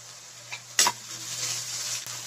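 Garlic and ginger paste hisses steadily in a hot pan for chole, with a sharp scrape of the stirring spoon near the start and a continuous sizzle throughout, no voices.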